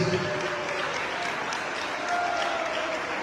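A church congregation gives loud, joyful applause in worship; the clapping runs steadily throughout, with faint tones and murmuring voices underneath.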